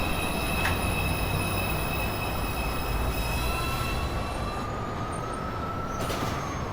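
A New York City subway 2 train, Manhattan-bound, rumbling along the track with a steady loud roar and high, sustained wheel squeal tones throughout, and a gliding squeal rising in the later part.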